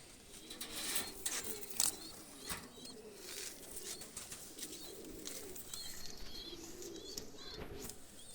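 Pakistani high flyer pigeons released, wings flapping in quick bursts alongside soft cooing and faint chirps, close by and fairly quiet over a light outdoor background, with no talk.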